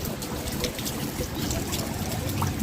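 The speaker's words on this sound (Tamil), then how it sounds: "இப்படி மழை பெய்யறது பாருங்கள்" Rainwater trickling and splashing steadily on a road, with a constant wet wash of rain running over the surface nearby.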